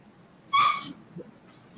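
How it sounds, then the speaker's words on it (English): A dog outside lets out one sharp, high whine or yelp, then a few fainter squeaks and rustles follow, all a little distant and with no one talking over them. "What is that noise? My dog."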